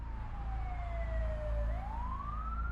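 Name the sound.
ambulance siren as it speeds away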